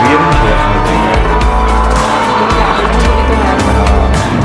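Lamborghini Huracan Evo supercar driving in Bhubaneswar, Odisha: loud, close engine roar with revving swells and tyre noise, continuous with no pauses.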